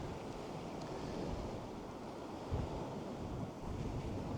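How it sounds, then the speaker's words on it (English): Ocean waves and wind at Mullaghmore, Co Sligo, a faint, continuous wash of surf blended with gusty wind buffeting the microphone, with no voices. "Not in them waves."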